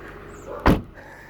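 A back door opens with a single short thud and rattle, heard close and alone against a quiet room.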